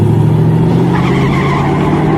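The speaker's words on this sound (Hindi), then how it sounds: "इधर बादल ने रिवर्स गियर लगाई" Car reversing fast with tires skidding, a loud, steady engine roar and a droning tire squeal held close up throughout, with no talk.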